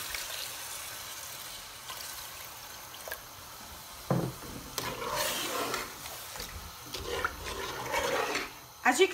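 Water poured from glasses into a pot of simmering chicken curry, several splashing, gurgling pours in bursts with pauses between, close by over a quiet kitchen background.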